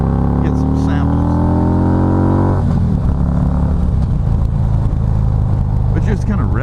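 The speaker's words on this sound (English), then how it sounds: "I just want to do a few revs here to get some samples." Harley-Davidson Street Glide V-twin engine revved hard while parked, a loud rising roar that cuts off abruptly midway and settles into a rumbling, throbbing idle, heard up close.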